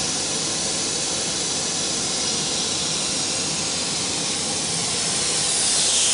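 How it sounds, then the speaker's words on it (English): A China-made CNC router under a SYNTEC controller runs with a loud, steady broadband hiss and whir as the spindle travels along its X axis, rising slightly toward the end, without any talking. "the spindle starts to move along X axis"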